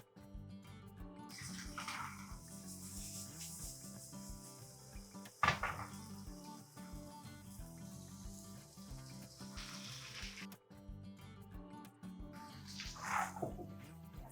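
Water is poured into a pan holding stuffed mackerel, a few soft splashing and trickling bursts with faint clatters of the pan and utensils in a quiet kitchen.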